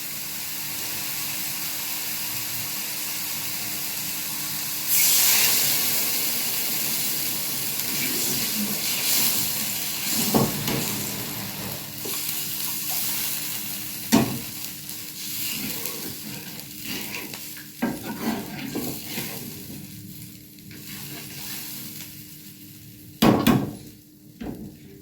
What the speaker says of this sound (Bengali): ভালো করে মশলা কষিয়ে নিয়েছি। এবার আমি পরিমাণ মতন জল দিয়ে দেব।